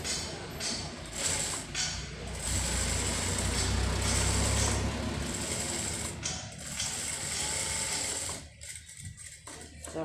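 Sewing machine top-stitching a seam on a round maxi dress, a steady close mechanical whir running almost the whole time with brief pauses and a softer stretch near the end.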